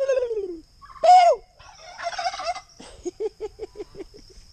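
Turkey on a countryside farm gobbling: a loud, rapid burst of rattling gobbles near the end, preceded by several falling calls and squawks from fowl, close and clear in a quiet outdoor setting.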